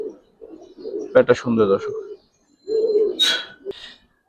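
A pair of pigeons in a loft coo in soft, low bursts, close by, while someone speaks over and between the calls.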